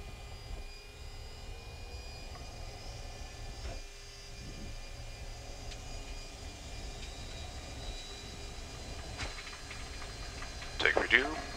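Avro RJ85 jets rumble inside the cockpit during the takeoff roll on runway 24, a steady low engine roar with a faint whine, while crew voices and radio calls come and go over it.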